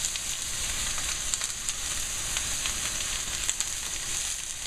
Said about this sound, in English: we're going to add our ground beef. Now this is 90-10 ground round. You just add that to the pan.